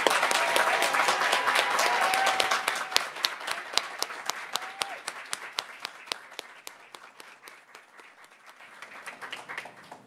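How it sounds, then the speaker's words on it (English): An audience at a spring university awards celebration applauds an award recipient, loud and dense at first, then thinning over ten seconds into scattered individual claps that fade and briefly pick up again near the end. "So can we all please give him a final round of applause?"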